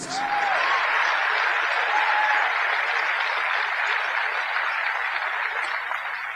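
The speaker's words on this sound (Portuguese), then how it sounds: "Eu não sei por que vocês estão aplaudindo" An audience applauds during Paul Washer's sermon, a steady, dense wash of clapping that holds at full strength for several seconds, with faint whistles near the start, then eases slightly at the end.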